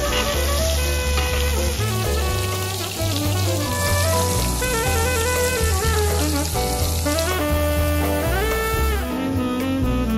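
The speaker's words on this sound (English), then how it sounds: "I'm gonna add in some rosemary, some butter, and then I'm gonna constantly baste that until it's fully cooked" Steak sizzles loudly and steadily in a pan while it is basted with butter and rosemary at a car camping cookout. The frying runs continuously under music, with no talking.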